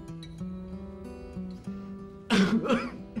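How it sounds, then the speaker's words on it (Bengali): A man in a Bangla drama scene gives a loud, harsh cough burst midway, following a stretch of quiet room tone with faint tonal background. "ওনার কাশি"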